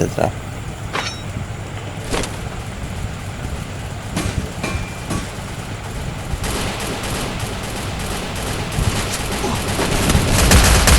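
Gunfire from the Free Fire mobile game rings out in scattered sharp shots over a loud, rumbling wash of game noise, with voices in the background.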